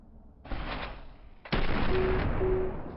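Two loud, sustained bursts of gunfire in the video game CS:GO, the second heavier and longer, with a faint tone underneath.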